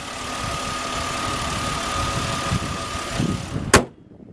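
A 2007 Chevrolet Impala LT engine idles steadily in an even low hum, heard close from the engine compartment, then a sharp thud as it is cut off near the end and everything falls quiet.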